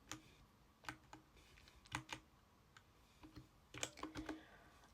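Quick typing on a computer keyboard, with irregular bursts of sharp clicks and short pauses between them, close and fairly quiet with no talking.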